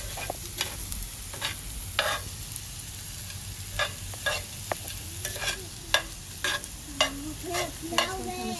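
A spoon scrapes and clacks against a pan of salmon cooking at home, in irregular strokes over a steady low sizzle, with small voice-like sounds toward the end.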